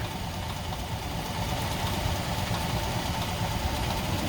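A 1941 Cadillac Model 6227 Deluxe Coupe engine with new lifters, pistons, reground crank and a rebuilt single downdraft carburetor idles smoothly and steadily, a low even hum heard up close.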